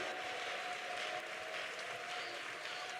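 A church congregation at a Sunday prayer service claps steadily, a dense and continuous wash of many hands heard from a moderate distance.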